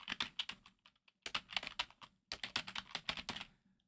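Rapid keystrokes on a computer keyboard as a file name is typed in Windows 11, coming in quick bursts with a brief pause in between, close and clear, with no voices.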